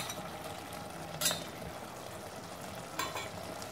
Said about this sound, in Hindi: तो हमें इसे इसी तरह से लगातार चलाते हुए भूनना है।